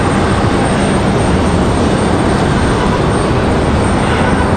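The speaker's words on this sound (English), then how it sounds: "American Airlines at 737 on the move" American Airlines Boeing 737 departing Raleigh-Durham International, a steady, loud broadband jet roar held close and constant throughout, with no voices over it.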